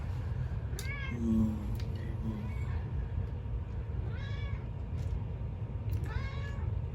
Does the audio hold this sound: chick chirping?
no